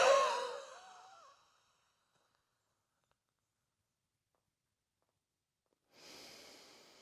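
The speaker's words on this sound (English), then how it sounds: "big inhale" Breathy sigh-like breath during a pelvic floor exercise, fading out within about a second, then silence before a second soft airy breath begins near the end.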